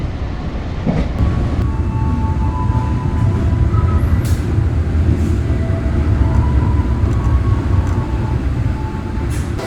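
The Sribilah Utama passenger train runs on rails near Medan, a loud, steady rumble of wheels and carriage noise heard from inside, with faint squeals and clicks along the track.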